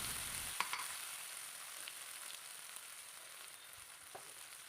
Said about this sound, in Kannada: ನಾನು ಸ್ವಲ್ಪ ಶುಂಠಿ ಬೆಳ್ಳುಳ್ಳಿ ಪೇಸ್ಟ್ ಹಾಕ್ಕೊಂಡು ಅದ್ರದ್ದು ಹಸಿ ಸ್ಮೆಲ್ ಹೋಗೋವರೆಗೂ ಫ್ರೈ ಮಾಡ್ಕೊಳ್ತೀನಿ